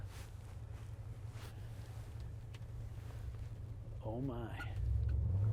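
An old stretch limousine with a sticky gas pedal drives along the road, its low engine rumble steady throughout and growing louder near the end, with a person exclaiming briefly.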